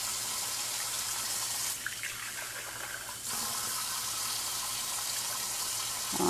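Tap water running while rice is rinsed in a kitchen, a steady, fairly quiet gush that dips briefly midway as the flow changes, with no voices.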